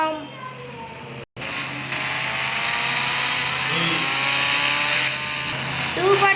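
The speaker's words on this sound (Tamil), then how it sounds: "250 ஸ்பீடில் தான் போகுது நம்ம கவாசக்கி" A Kawasaki motorbike races past at high speed with a loud, rising, high-pitched engine whine that holds steady for several seconds, while someone talks over it.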